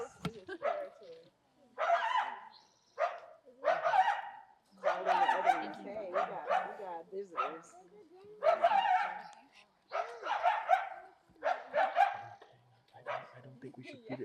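Coyotes bark and yip at night in Griffith Park, Los Angeles, in a run of about a dozen sharp, ragged bursts at moderate distance, separated by brief pauses, with people talking at times.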